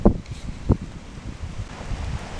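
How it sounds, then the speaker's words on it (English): Gusty wind buffets the microphone with low rumbling thumps and rustling, steady and close, no one speaking. "That's real windy right now"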